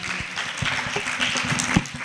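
Children at a French Christmas show clap along, a fairly soft, scattered patter with a few sharper individual claps standing out over a busy room.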